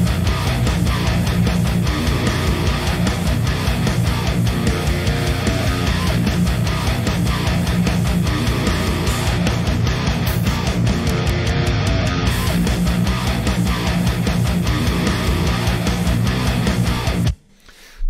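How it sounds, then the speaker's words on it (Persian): Dense, heavily limited rock mix with distorted electric guitar driving steadily over drums, loud and sustained throughout with no talking, then cutting out abruptly at the very end. "زمانی که لیمیتر میاد دیگه کاملا گیتار جای خودش رو پیدا میکنه"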